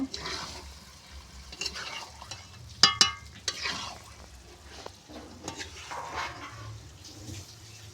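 Bombay duck fish is stir-fried in a pan, a soft wet sizzle broken by scraping spatula strokes and a cluster of sharp metallic clinks, close and moderately quiet, no talking.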